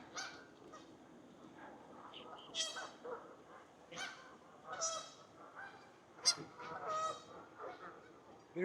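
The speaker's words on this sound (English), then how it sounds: "There are a lot of geese here." Many geese honk at a garden pond, with bursts of loud, harsh calls rising and overlapping at varying distances over a quiet background.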